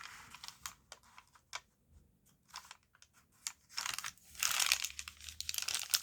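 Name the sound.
crinkly paper page being folded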